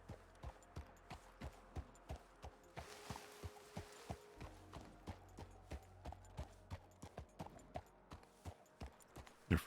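Horse hooves in a Red Dead Redemption roleplay, a horse carrying two riders: steady, soft clip-clop footfalls in a regular walking rhythm, fairly close and fairly quiet, with faint background tones and no talking.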